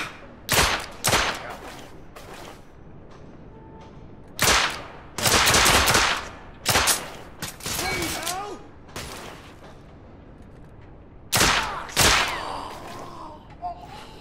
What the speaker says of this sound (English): Heavy fire! I'm pinned down!